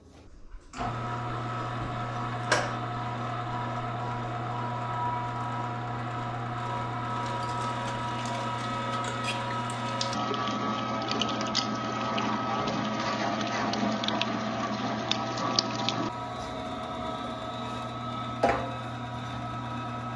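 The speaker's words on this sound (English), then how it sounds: "So we're gonna start grinding here." An electric meat grinder churns pork for Italian sausage with a steady motor hum and a mechanical whir that holds for about twenty seconds, with occasional clicks and small shifts in tone.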